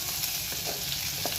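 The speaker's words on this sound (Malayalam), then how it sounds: "സവോള ആഡ് ചെയ്തതിന് ശേഷം നന്നായിട്ട് വഴറ്റുക." Chopped onions sautéing in coconut oil in a pan, a soft steady sizzle with faint stirring scrapes, quiet and close with no talking.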